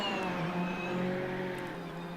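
A GT3 race car at Spa heads down into the chicane, its engine a steady, moderately distant drone with faint harmonic whine and little change in pitch across the short stretch.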